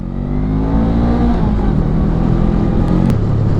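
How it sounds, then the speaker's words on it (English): A Honda CMX 500 Rebel motorcycle pulls away under acceleration, its close, loud engine note climbing steadily in pitch for a few seconds before easing back. "It accelerates away nicely."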